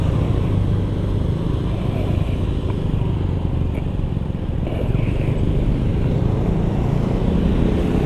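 A new 2025 Honda Lead 125 scooter is ridden on the road during its break-in period. Its engine makes a steady, loud drone blended with rushing wind noise, holding an even level throughout with no pauses.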